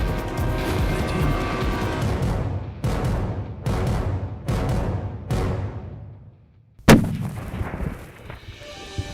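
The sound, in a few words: gunshot from a mule deer hunting rifle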